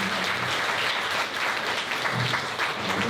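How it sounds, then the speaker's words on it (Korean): Wedding guests at a ceremony applaud the groom after he reads his vows, a continuous, even roar of many hands clapping at close range with no speech over it. "진심하게 사랑하는 신랑님께 큰 박수 부탁드립니다."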